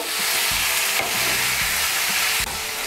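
Spinach stems are stirred with oil in a hot pan, giving a continuous close sizzle broken by a few clunks of the spoon against the pan and no talking.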